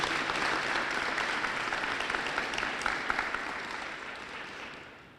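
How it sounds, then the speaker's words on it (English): An audience applauds students at a school district's State of the District address, a steady wash of clapping from a full room that gradually thins and fades toward the end. "I think all of our students that have talked so far deserve a round of applause."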